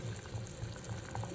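Milk boiling in a pot, a faint steady bubbling and simmering with soft repeated pops, heard alone and close.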